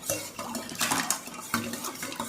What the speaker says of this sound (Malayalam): ഇനി നമുക്ക് ഐസ് ക്യൂബ്സ് ഇട്ടെടുക്കാം.